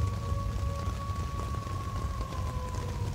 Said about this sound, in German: Jetzt höre ich einfach nur noch ein bisschen den Regen zu.